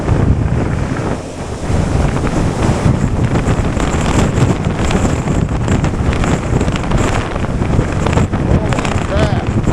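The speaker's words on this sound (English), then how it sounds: "Gotta beat the wind. It's blowing me. Almost blew me over." Strong gusty wind roaring over the microphone while riding a Wooken e-bike in bad weather, a loud continuous buffeting that dips briefly then surges back, with a voice speaking under it.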